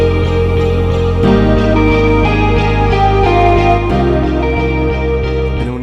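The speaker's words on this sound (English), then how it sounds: "full of reverb sounding vocals that I added just to like the beginning of each bar" Reverb-drenched ambient vocal sample panned wide in an FL Studio indie rock beat, sitting over a steady bed of sustained chords and bass with no drums, with the pattern shifting at each bar.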